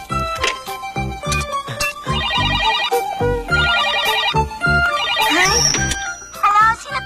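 A telephone rings in a Doraemon cartoon, sounding as three bright, warbling electronic bursts in a row amid loud cartoon music and effects.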